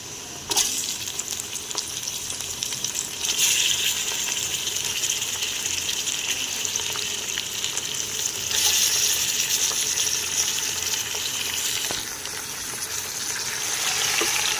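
Meat frying in a pan with lightly browned onions for Kabuli pulao, a loud steady sizzle that surges as pieces are stirred, with no voices.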